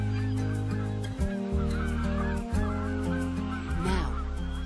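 A dense flock of geese honks continuously in the Hula Valley wetland, a migration stopover, the calls overlapping into a loud, steady chorus with no talking.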